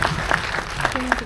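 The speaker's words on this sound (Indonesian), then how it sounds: "Tepuk tangan buat mereka." Audience applause at a film press conference for a premiere, with clapping over an active room and a voice speaking over it throughout.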